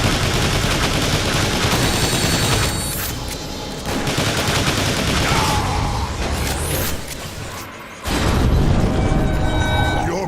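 Dense sci-fi gunfire and heavy automatic weapon bursts from Transformers: War for Cybertron, loud and continuous with booming impacts and mechanical clanks, a brief drop near the eighth second before firing resumes.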